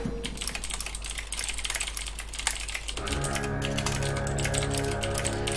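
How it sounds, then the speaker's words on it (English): Fast, steady typing on a computer keyboard, dense clicking taps close by over a constant hum, with game sounds and music rising underneath partway through. "Sorry about the typing."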